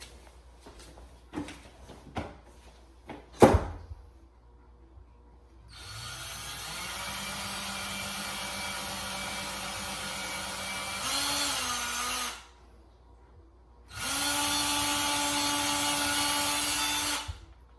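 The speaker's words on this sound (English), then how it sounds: "Now we're gonna just drill our holes." A few clicks and a sharp knock, then a power drill whirs steadily for several seconds drilling holes in a wood frame, pauses, and runs again at a higher pitch, close by.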